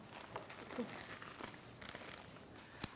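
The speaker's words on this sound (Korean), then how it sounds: "이 수국만 우리 파마하면 모자 쓰듯이 얘를 비닐로 이렇게 모자를 씌워놔요" Thin plastic wrap crinkles and rustles around hydrangea flowers, close and soft, with small scattered crackles and one sharper snap near the end.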